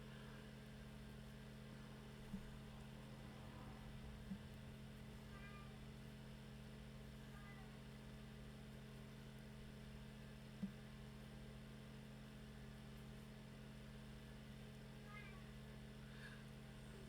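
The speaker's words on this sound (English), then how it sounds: "I could hear cat meowing." Indoor domestic cat meowing at night, several faint, short meows scattered over a steady mains hum, the animal sounding somewhat distant, with a few soft clicks and no talking.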